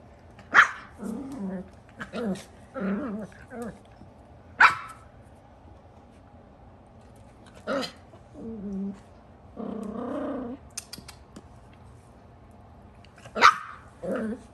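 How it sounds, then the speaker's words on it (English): Schnauzer puppies playing, with scattered sharp barks and low growly yips over a quiet background, several short bursts spread across the scene. "And this is what these 2 puppies, or actually all of the puppies, play like this."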